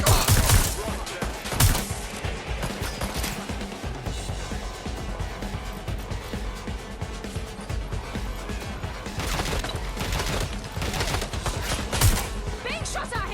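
Gunfire in the Watch Dogs: Legion video game, with dense, sustained bursts of shots and crashes running throughout, louder volleys near the start and toward the end.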